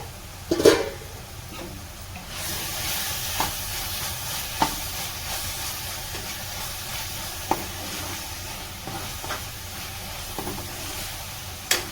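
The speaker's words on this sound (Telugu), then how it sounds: "పచ్చికంప పోయే వరకు వేపుకుంటే సరిపోతుంది" Ginger garlic paste frying in a pan for a paneer and cashew curry makes a steady soft sizzle, with occasional light clicks of a spoon stirring, close and moderately quiet.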